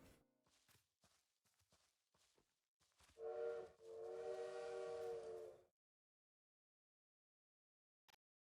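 After some soft footsteps and clicks, a video game bird gives a whistle-like call twice in quick succession, imitating a train whistle, then silence.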